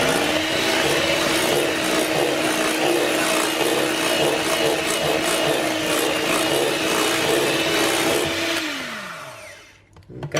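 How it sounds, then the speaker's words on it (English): Lemon keto whipped cream being whisked in a bowl with what sounds like an electric mixer: a loud, steady motor whir with a constant pitch runs for about eight seconds, then winds down and stops near the end. No talking. "So I'm going to give that just a little whisk through."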